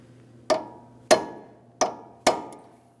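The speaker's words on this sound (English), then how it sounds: "We're going to use a hammer and punch and carefully drive our axle nut down into this" Four sharp metallic strikes of a hammer on a punch, peening an axle nut into its slot during a front wheel bearing and hub job on a 2003–2008 Toyota Matrix, evenly spaced, close and crisp, with no talk.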